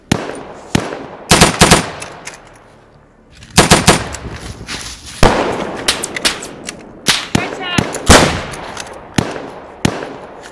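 Machine-gun fire rings out in a German WW2 ambush scene, loud and close, in rapid bursts with sharp individual shots between them, and brief shouting mixed in.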